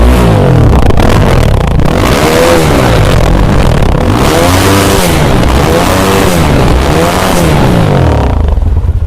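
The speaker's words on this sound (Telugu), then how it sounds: "మన కార్బన్ క్లీనింగ్ సెంటర్ అంతా కూడా ఈరోజు ఈ బైక్తో దద్దరిల్లిపోయిందండి" A 2016 Commando motorcycle engine revving hard and loud inside a carbon cleaning workshop, throttle blips rising and falling in repeated waves over a rough, thumping idle, close and dominant throughout.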